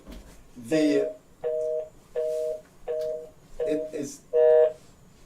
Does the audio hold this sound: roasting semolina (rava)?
no